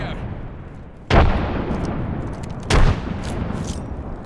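A frag grenade in Apex Legends goes off twice, each a sudden loud boom that trails into a fading rumble, separated by about a second and a half of quieter combat noise.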